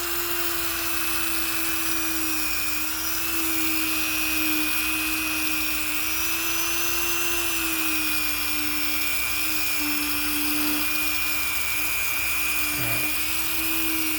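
Rotary tool polishing the frets of a guitar being refurbished, a steady high-pitched whine that runs continuously and close up, wavering slightly in pitch with a brief dip near the end.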